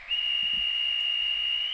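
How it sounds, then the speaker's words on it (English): A Märklin model railway conductor's whistle gives a single shrill blast, held at one steady pitch for about a second and a half, clear and alone. "The same goes for the conductor's whistle."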